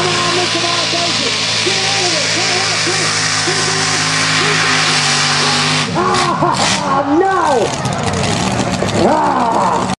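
A mini rod tractor-pull machine with an onboard V12 Allison engine revs loudly in a steady, wavering roar, then surges and labours unevenly in the second half, with an announcer talking over it throughout.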